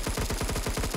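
Rapid automatic gunfire from a Type-88 or PP-19 Bizon in the shooter game Phantom Forces: a steady, loud burst of evenly spaced shots, roughly eight to ten rounds in one second, with no talking.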